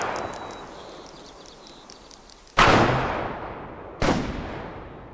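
Two sharp, loud hunting rifle shots in the game Way of the Hunter ring out over a quiet outdoor background, each trailing off in a long echoing tail, the second following about a second and a half later.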